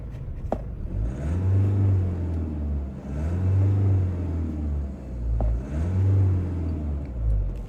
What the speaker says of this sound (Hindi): वो है इसका इंजन, ये डीजल है।